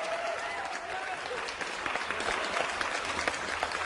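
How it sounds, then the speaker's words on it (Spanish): Audience applause at a Spanish-language satirical talk show about the justice system, a dense steady wash of many hands clapping, fairly loud and continuous, with faint voices mixed in. "vamos a darle un aplauso al magistrado Fabio"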